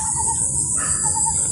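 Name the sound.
bird calling in a tree in a Thai palm plantation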